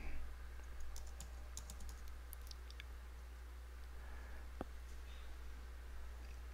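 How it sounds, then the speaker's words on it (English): Light tapping on a computer keyboard while entering text in a web console, a brief flurry of faint clicks at the start then sparse isolated taps over a steady low hum. "So I type here, I click here, and type QRadar."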